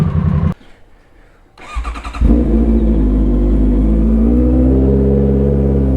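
A Honda CBR motorcycle engine cranks with a brief starter whir, then catches and settles into a loud, steady idle close by, with no voices.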